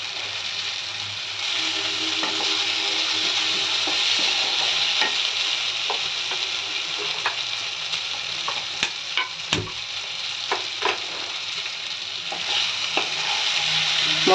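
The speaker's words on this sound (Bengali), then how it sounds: "এখন আমি এটাকে ভালো করে কষিয়ে নিচ্ছি।" Spice masala for a bhangar fish curry sautéing in a pan, a continuous close sizzle under repeated scraping and stirring clicks from a spoon, with a few sharper knocks partway through and no voices.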